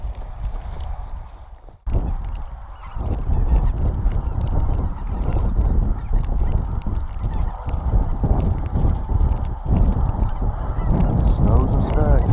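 A flock of snow geese and speckle-bellied geese honks continuously in loud, overlapping calls outdoors in the snow, the chorus dense and close throughout.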